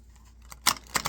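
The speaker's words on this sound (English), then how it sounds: "for those of you who like the sound of the shuffle" A Harmony tarot deck gets shuffled in two quick riffling bursts after a near-silent start, close and crisp.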